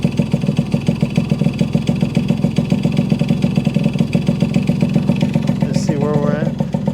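A 1974 Yamaha RD60 small two-stroke motorcycle idles close and loud around 1200 RPM, a steady rapid popping with a brief higher rev flutter near the end.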